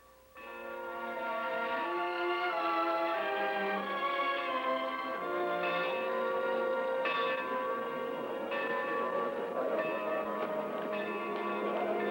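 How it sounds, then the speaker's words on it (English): A work bell rings out in a steady, resonant peal, the struck tones overlapping and decaying as new strokes arrive every second or so, loud and clear with no talk over it. "That's the work bell."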